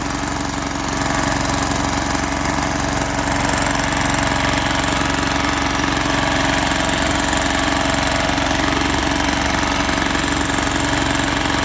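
A Zubr NT135E walk-behind tractor runs at high revs while working a rotary harrow, its engine a loud, steady, close drone with constant vibration and no pauses.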